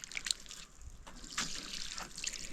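Soft, continuous trickling water soaking into a concrete plinth at a village house under construction, with a few faint drips and splashes, fairly quiet and close.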